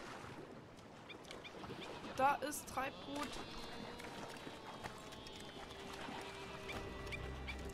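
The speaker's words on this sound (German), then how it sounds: "Vögel hören sich hier auch komisch an." Birds call with odd quacking, duck-like cries in the pirate game Assassin's Creed Black Flag, a few short squawks near the start over soft sea ambience while someone talks.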